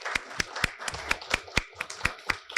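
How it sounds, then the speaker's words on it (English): Sparse audience clapping at an Old Westbury Black Studies lecture event, a steady rhythm of distinct handclaps at moderate distance, fairly quiet, with no talk. "Another round of applause."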